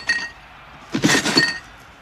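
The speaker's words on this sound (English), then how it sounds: "he heard the sound of broken glass and what sounded like a bunch of crap just thrown in the box" Broken glass pieces clinking and rattling inside a shipped cardboard box as it is shaken, a brief jingle followed by a louder, denser burst of shifting shards, close and with no voices.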